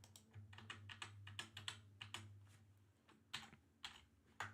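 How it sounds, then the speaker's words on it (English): Rapid, uneven keystrokes on a computer keyboard, a run of close clicky taps with a few louder strikes near the end, with a steady low hum underneath and no talking. "Why am I typing?"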